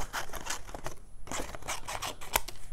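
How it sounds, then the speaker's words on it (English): Scissors trimming card stock for a handmade wheelbarrow card, several close snips and rustling cuts in quick succession, with no talking. "I'm just gonna trim it down a little bit."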